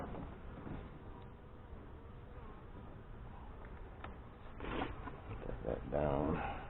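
Honey bees swarm at an opened hive during a fall feeding and inspection in northwest Wisconsin, a faint, steady buzzing drone broken by handling knocks and scrapes that grow louder near the end.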